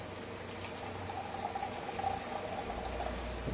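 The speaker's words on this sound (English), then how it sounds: "I may go ahead and add a little bit more water" Water is poured steadily into a Jetboil camping stove pot while it is topped back up, giving a soft, continuous trickle that stays close and fairly quiet with no talking.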